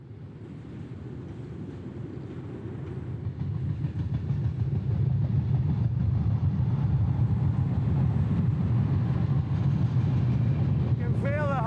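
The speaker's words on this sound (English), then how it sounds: "You can feel the whole bridge vibrating under the weight of the train." A train rumbles steadily across a bridge, a deep low rumble building over the first few seconds and then holding loud and constant.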